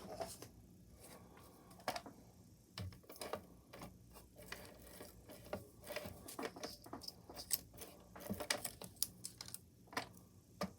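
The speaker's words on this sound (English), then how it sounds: "I'm going to run my tape runner through here." A tape runner is run along paper while making a shadow box, producing a series of quiet irregular clicks and ticks, some in quick clusters, against a faint hum.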